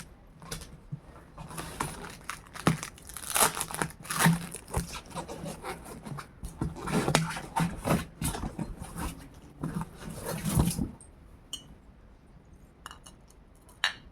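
Shopping parcel packaging being unwrapped and handled nearby, with irregular crinkles, rustles and occasional light clinks of glass items, fairly close, continuing for about eleven seconds before settling into quieter handling.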